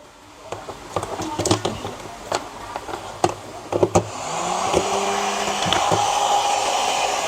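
A low-watt hot air gun, rated 800 watts, clicks a few times as it is handled, then switches on into a loud, steady blowing whir close by.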